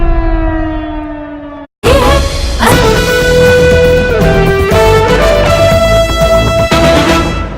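A loud civil defense siren in Udhampur, Jammu, sounding during a blackout, wails with rising and falling tones, briefly dropping out before sounding again, close and overpowering.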